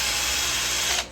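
A power drill fitted with a wire brush scrubs grime off Kawasaki KMX 125 motorcycle fittings, making a loud, steady, harsh whir up close that cuts off after about a second.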